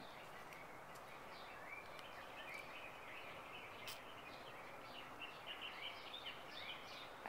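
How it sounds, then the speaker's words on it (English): Birds chirping outdoors, faint and distant, with scattered short tweets and calls repeating over a soft steady background hiss. "I hear birds. Chirp, chirp, chirp. You hear the chirpy birds?"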